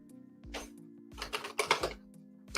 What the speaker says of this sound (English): this new keyboard I got over here is loud